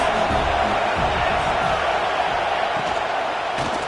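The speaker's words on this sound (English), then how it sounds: "This crowd trying to make life miserable for this offense." A football stadium crowd roars steadily throughout, a dense, continuous wall of cheering and noise from a large audience with no distinct voices standing out.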